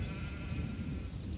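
A sheep named Betsy in the fantasy video game Gothic 2 bleats softly, a quiet, wavering animal call over a faint ambient game background.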